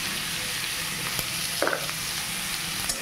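Onions fry with salt in a pan for a loti chingri dish, giving a steady close sizzle with a few light stirring clicks and scrapes. Nobody talks.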